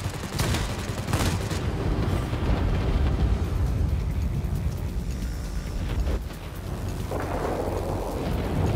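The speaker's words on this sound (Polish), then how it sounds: "Mamy tu silną burzę!" A heavy thunderstorm in World of Warplanes rolls on as a loud, continuous low rumble with booming swells and crackling peaks, easing slightly near the end.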